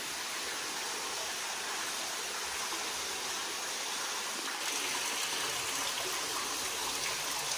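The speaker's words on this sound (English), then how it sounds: "It's where water's coming over the edge." Continuous rushing water pours steadily over a rock edge at Rock Bridge State Park, a broad even hiss with no pauses, fairly close and loud throughout.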